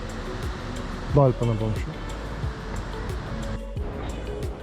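Wind-driven sea waves wash and roar steadily along the coast of Bali, Indonesia, a broad continuous noise running beneath a man's speech.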